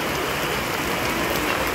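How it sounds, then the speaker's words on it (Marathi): Heavy rain pours down in Pune, a dense, steady hiss of drops hitting surfaces close by, with no voices. "पुण्यामध्ये जोराजोराने पाऊस चालू आहे बघा"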